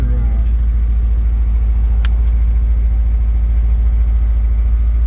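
A centermount engine fitted with a 290 thou plunger pump for break-in runs steadily at about 500 miles, a loud, even low rumble throughout with no change in pitch.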